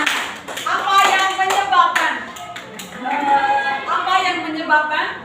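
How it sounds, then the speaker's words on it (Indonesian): Scattered classroom clapping for students, mixed with ongoing talking voices and bright sharp hand taps throughout. "tepuk tangan untuk kalian"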